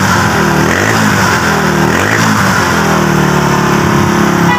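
A Honda Wave 100 motorcycle engine, set with a high idle and prone to stalling and misfiring, runs continuously with a loud, close, steady drone during idle adjustment.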